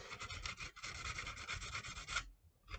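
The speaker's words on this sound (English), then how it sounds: "let's just sand down the sides because it's a little gunky" Sandpaper rubs in quick back-and-forth strokes along the plastic hull sides of a 1/570 Revell Titanic model. The rasping is close and continuous, then stops abruptly near the end.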